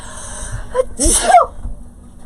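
A single sharp sneeze, close and sudden, with a brief breathy intake just before it and quiet room tone around it.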